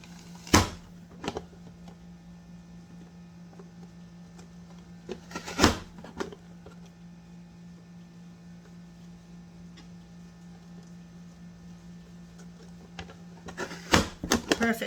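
A small manual vegetable chopper pushing produce through its cubing grid gives a few sharp clacks and thumps spaced several seconds apart, close and loud against a steady low hum.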